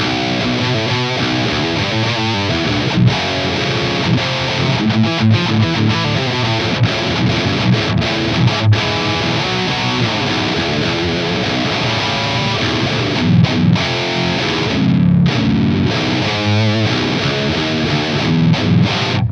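A heavily distorted electric guitar plays chunky riffs and chords through an amp simulator, with a gritty, sandy, saturated tone, loud and continuous throughout.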